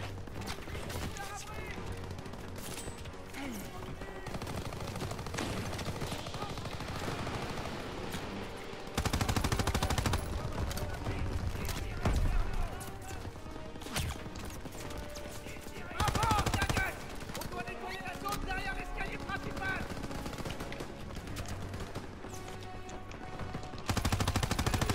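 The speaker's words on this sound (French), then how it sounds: "Une mitrailleuse dans l'escalier aussi!" Machine gun fire rattles in a World War II Call of Duty battle, with sustained automatic bursts and loud explosive hits over a dense combat mix, while a voice shouts orders in French.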